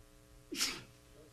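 A single sharp sneeze bursts out against a quiet city council chamber, abrupt and fairly close, fading quickly into silence.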